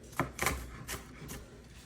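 A knife chops vegetables on a cutting board for shrimp tacos, making three or four quick, soft knocks in an uneven rhythm, faint and close, with no one talking.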